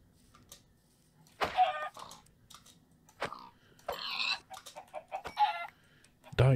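In the Minecraft video game, chickens cluck in short, scattered bursts among soft thuds and clicks of play, fairly close and intermittent against a quiet background.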